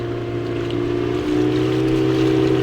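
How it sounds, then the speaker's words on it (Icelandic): A large trawler's engine drones steadily on the water, a deep, continuous rumble with a low hum that holds even and loud throughout, with no voices over it. "Það hlýtur að vera trolli."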